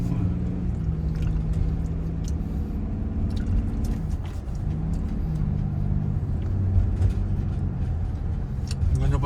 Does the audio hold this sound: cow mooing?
no